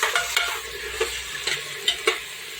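Potatoes, peas and tomatoes with salt are stirred in a frying pan, a spoon scraping in about six quick, regular strokes over a soft, steady sizzle, close by and with no talk.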